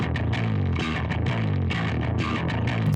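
A bass guitar plays low, punchy notes with a slightly gritty, distorted edge in a steady, continuous run.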